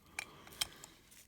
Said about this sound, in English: push the knob in nice and easy. You'll hear it click into place.